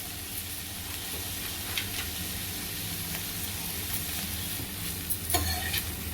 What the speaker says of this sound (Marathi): सगळ्या भाज्या दोन दोन मिनटं परतायच्या आहेत आपल्याला